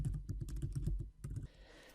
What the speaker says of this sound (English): just click here on the white space and simply start typing